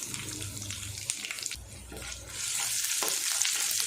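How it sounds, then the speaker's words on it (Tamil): Chopped garlic sautés with mustard seeds in a pan, a soft sizzle under stirring scrapes, with a louder hiss rising in the final second or so; no voices. "பூண்டை லைட்டாக வதக்கி விட்டுக்குவோம்."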